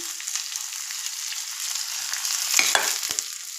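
Ginger and curry leaves fry in a pan and are stirred round, giving a bright continuous sizzle with a few scraping stir strokes near the end.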